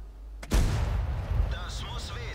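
A single heavy tank cannon blast in World of Tanks, a loud boom striking the gun mantlet and rolling into a long rumbling tail, with someone talking over it.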